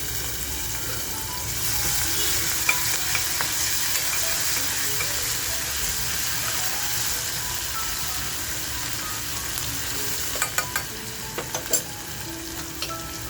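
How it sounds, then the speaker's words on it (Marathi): Thecha, a crushed chili paste, sizzles in hot oil for a spicy Gatari special dish. A steady, fairly loud frying hiss runs throughout, with a few sharp clinks of a utensil near the end. "तेल बघा आपलं छान तापल्यानंतर आपण थोडासा ठेचा जो आहे तो अगोदर टाकून घेऊया."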